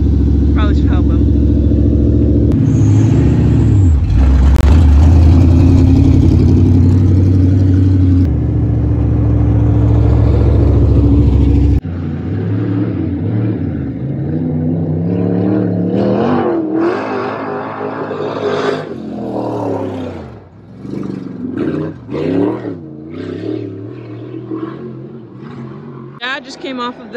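An IMCA dirt Sport Mod race car engine drones loud and close on a slippery dirt track, a steady, rough, revving roar for about twelve seconds. It then cuts out and people talk.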